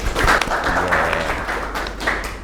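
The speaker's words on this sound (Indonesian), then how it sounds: "Tepuk tangan untuk semuanya." A class group in an Indonesian training session on prompt engineering gives a short burst of applause, loud and close, clapping dense and ragged for a couple of seconds before tapering.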